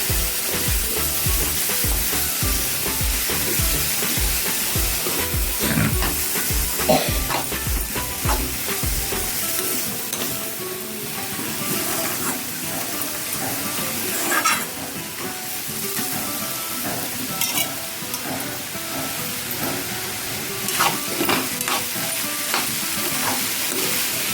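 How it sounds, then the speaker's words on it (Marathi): Pendpala being stirred in a frying pan, a loud steady sizzle over a dense stretch of scraping and spatula knocks, which gives way to a continuous frying hiss with lighter occasional stirs. "छान हलवून घेऊयात आपण"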